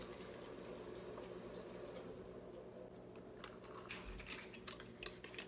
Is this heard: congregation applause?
no